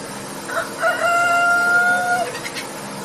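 A rooster crows one drawn-out call, with brief clucking from hens around it, heard fairly close against quiet background.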